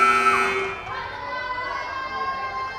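At a girls' varsity high school volleyball match in a gym, a loud electronic buzzer blares for under a second, then fades into the hum of the crowd.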